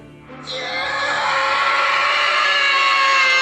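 Agonized death screams of men and women in a Spanish-language audio drama: a loud, sustained wail of several anguished voices that surges in just after the start and holds steady, dense and unbroken, to the end.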